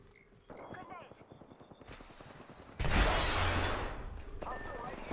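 Enemy gunfire in a shooter video game cracks out in quick repeated shots under a voice talking, then a loud burst of heavy fire and impact noise takes over the second half.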